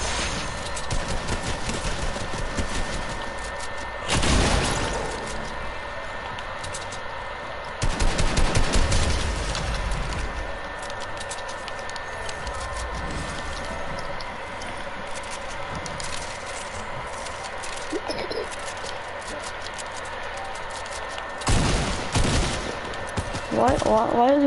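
Gunfire in a video game, with short sharp bursts of shots breaking out every few seconds over a low, steady background hum.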